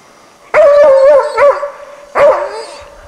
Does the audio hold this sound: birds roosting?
no